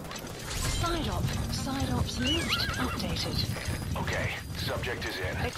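Horse in Metal Gear Solid 5: The Phantom Pain, whinnying in several wavering calls alongside clip-clop hoofbeats and clicking gear mechanisms, with someone talking over it.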